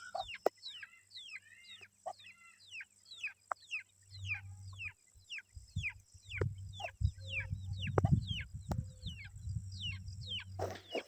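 Chickens scratching in a peanut field give a series of sharp chirps and clucks, close and fairly quiet, while a low rumble of rustling and scratching builds up in the second half.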